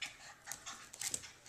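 A very young puppy, a daughter of Spritz, pants excitedly after a tug game with a toy, giving quick breathy huffs close by and fairly faint, with no talk over them.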